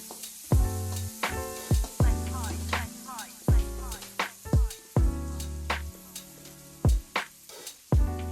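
Tomatoes frying in a pan for a North Karnataka banana flower curry, giving a loud, steady sizzle broken by repeated sharp clacks of stirring against the pan.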